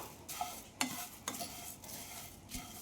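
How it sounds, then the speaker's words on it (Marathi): Puffed rice dry-roasts in a hot pan, stirred, making quiet rustling and scraping with a few sharp clinks of a spoon against the metal, faint and close, with no talking. "आता हे चांगले भाजून घ्यायचे."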